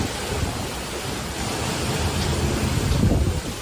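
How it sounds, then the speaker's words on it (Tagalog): Hurricane Beryl at sea: a continuous heavy roar of wind, rain and crashing waves, loud and unbroken, swelling slightly toward the end, with no voices. "Ito po yung Beryl hurricane na binaybay po ang kahabaan mga sangkay ng karagatan"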